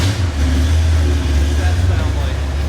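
Roger's Oldsmobile 442 idles with a deep, steady rumble, loud and close, the engine note holding fairly even throughout with no voices over it.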